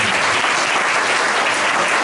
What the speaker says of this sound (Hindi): इसके लिए हम जोरदार एक बार ताली बजा सकते हैं